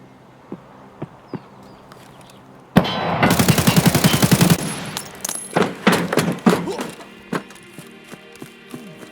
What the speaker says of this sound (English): There's somebody shooting at me from basically from my back